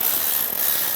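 A ratchet tightening the screws of a steering column cover on a 2011-2019 Ford Explorer makes a second of continuous, close, buzzy clicking.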